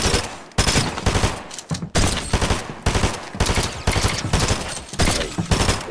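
Rapid automatic gunfire in Fortnite during headshots: loud, dense bursts of shots nearly continuous over several seconds with brief gaps, no talking.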